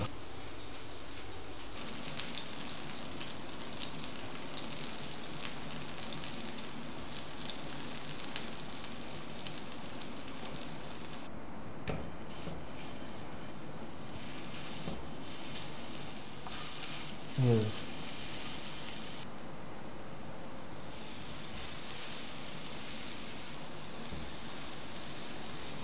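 Continuous dense sizzle of chicken reshmi kababs frying in oil on a hot griddle, steady and close throughout, with occasional clinks and scraping of utensils and a brief louder knock partway through.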